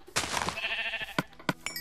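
A sheep in the Minecraft video game gives a short bleat, followed by a few dull hits close up, with no talk.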